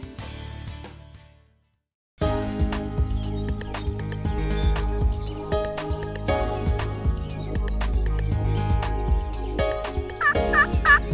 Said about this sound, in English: There was one gobbling just on the other side of this timber